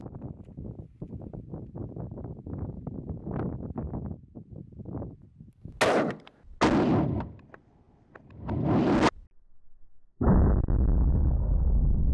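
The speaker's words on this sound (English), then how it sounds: "We're gonna give it one more shot. We're gonna shoot 308." Several loud, sharp rifle reports from a .308 fired at helicopter cockpit armor outdoors, each a distinct bang with a ringing tail, separated by pauses after a stretch of rustling handling noise; wind buffets the microphone.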